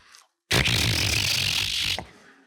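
A voice makes a long, breathy hiss lasting about a second and a half, close and loud, imitating a snake.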